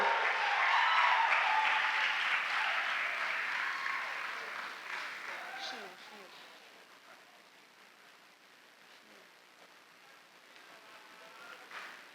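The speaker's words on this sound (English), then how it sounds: "Let's have a round of applause for all our finalists." Audience applause at a school speaking competition awards ceremony, full and sustained for several seconds before fading to light scattered clapping in a quiet hall.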